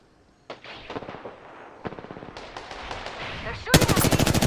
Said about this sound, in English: They're shooting at me. They spotted me. I'm taking shots.